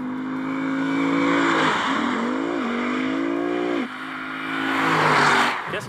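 A Lexus RC-F with a V8 engine driving hard, its engine note loud and close, rising and falling through revs with a gear change dip and a surge near the end.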